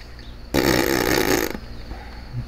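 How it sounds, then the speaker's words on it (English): A fart sound effect blasts for about one second, a loud, close, raspy sputter that cuts in abruptly over quiet background and stops just as suddenly. "big fart sound."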